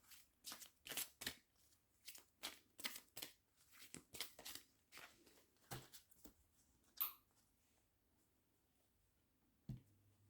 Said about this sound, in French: on va m'envoyer de tirer une carte pour l'énergie du jour